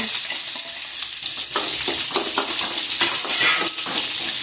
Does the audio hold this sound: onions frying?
yes